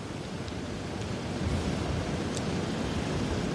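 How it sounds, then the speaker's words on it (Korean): Heavy surf pounds a harbor on the south coast of Jeju as a typhoon approaches, a steady loud roar of crashing waves and wind with no break, close to the microphone. "여기서도 파도 소리가 좀 거센 게 들리는데"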